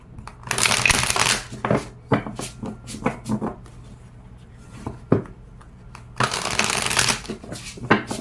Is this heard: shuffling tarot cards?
yes